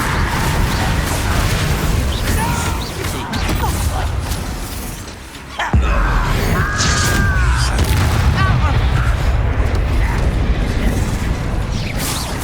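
Booming spell blasts from Bombarda and Confringo in Hogwarts Legacy hit hard, with a sharp crash near the middle, over dense combat effects and a layer of voices.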